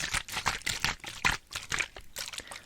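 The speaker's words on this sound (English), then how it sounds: "the sound is this rose water and glycerin spray" A spray bottle of rose water and glycerin gives a quick series of hissing mists, about ten short, fairly close bursts in an uneven rhythm.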